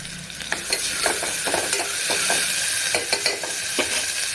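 A spatula stirs masala with mint frying in a pan for tomato bath, giving a steady sizzle with repeated scraping strokes close by, no voices.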